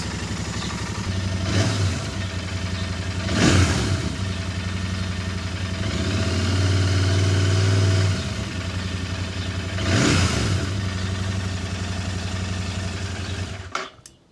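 A Royal Enfield Interceptor motorcycle engine idles with a low steady rumble, then revs sharply three times in separate bursts before cutting off near the end.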